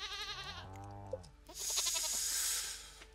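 Goat bleats in the Stardew Valley farming game, a wavering, pitched cry over the first second, followed by a brighter burst of game sound effects.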